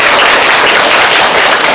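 An audience at a Ramadan campus gathering bursts into loud, dense applause that holds steady without pause for nearly two seconds.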